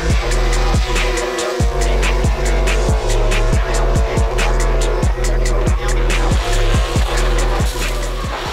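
A drift car warming its tires at a Kuršėnai drift event, loud and close: a steady engine drone and tire roar with repeated short squeals and rhythmic throttle blips, roughly one every half second.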